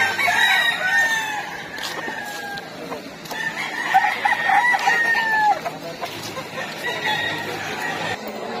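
A stag rooster crows loudly several times at a busy pet market, the calls ringing out clearly over faint background chatter and market noise.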